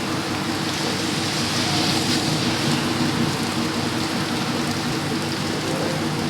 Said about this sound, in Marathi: हे बघा पाऊस पडतो इकडं.